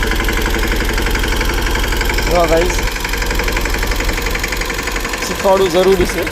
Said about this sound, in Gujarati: જો ગાઈસ ટ્રેક્ટર લઈને આવી રહી છે મારી ઘરવાળી